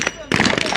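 Rapid shotgun blasts at a SWAT shooting competition, a quieter shot followed by a loud burst of closely spaced reports at close range, with a voice heard faintly underneath.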